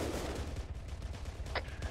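Gunfire crackles in a military video game, a rapid burst of distant and mid-range shots with sharp cracks scattered across a couple of seconds, no talking.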